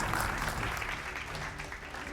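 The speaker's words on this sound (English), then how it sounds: "A round of applause for that." An audience applauds at an African innovation prize awards ceremony, steady moderate clapping filling the hall for a couple of seconds at a fairly quiet level.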